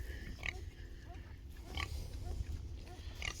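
Pigs on a small farm give a few short, low grunts at intervals over steady outdoor background noise, fairly close to the listener.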